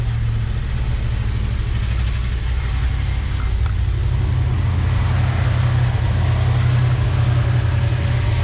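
A 1969 Ford F-250 engine that sat for 20 years, with corroded throttle butterflies, idles slowly and unevenly, a steady loud low rumble with a faint pulsing throb close by and no voices.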